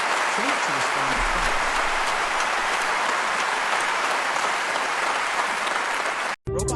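Steady, dense clapping fills the space as children clap for a robot trained to respond, a continuous wash of many hands with voices mixed in, ending abruptly near the close.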